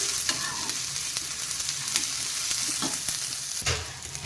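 About a tablespoon of cumin seeds fry in a pan, giving a steady crackling sizzle broken by light stirring scrapes throughout.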